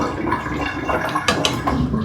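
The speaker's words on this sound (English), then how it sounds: "I want to drain some of it and just actually soak this" Water being drained from a kitchen pot while steamed food is being prepared, a steady rushing, gurgling flow lasting about two seconds with a few splashy bursts.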